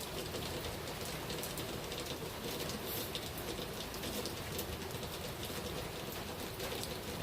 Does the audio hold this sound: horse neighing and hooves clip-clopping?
no